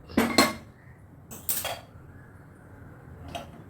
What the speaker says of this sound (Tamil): அடுப்பை பற்ற வச்சுக்கிறேன் அதில் வானல் எடுத்து வைக்கிறேன்